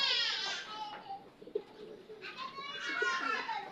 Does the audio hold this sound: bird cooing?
yes